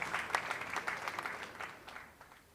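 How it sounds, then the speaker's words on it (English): An audience at an awards ceremony gives a round of applause: steady, fairly soft clapping from many hands that tapers off toward the end. "Ladies and gentlemen, a round of applause for Dr. Grace Amiobing"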